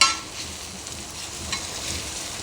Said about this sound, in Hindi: अब मैं इसमें 1 टीस्पून सफ़ेद ज़ीरा शामिल कर रही हूँ। इसको हम हल्का सा सौते करेंगे